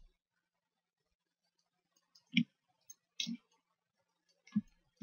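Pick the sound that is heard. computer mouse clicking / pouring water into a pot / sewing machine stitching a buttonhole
computer mouse clicking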